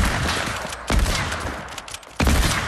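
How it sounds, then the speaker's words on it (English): Two loud, sharp rifle shots from an epic hunting rifle in the Fortnite video game, spaced about a second apart and each followed by a brief tail, over steady game background noise. "Okay, I have an epic hunting rifle."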